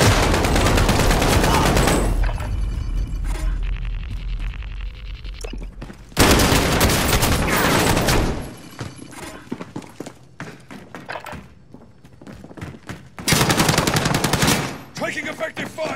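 Loud bursts of automatic gunfire from a shooter video game match come in heavy volleys separated by quieter stretches of scattered shots, thuds and impacts.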